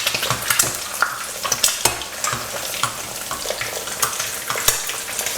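An egg frying in a pan of hot oil while the oil is spooned over its top, giving a steady loud sizzle with crackling pops and light scraping, close and with no talking.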